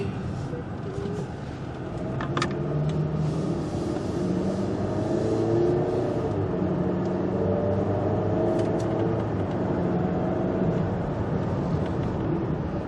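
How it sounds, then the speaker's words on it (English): Steady engine and road drone from inside a car driving through town after leaving the interstate, continuous and moderately loud with a brief click, with no talking. "Here we are, exiting off of the interstate, getting back into in-town driving, so to speak."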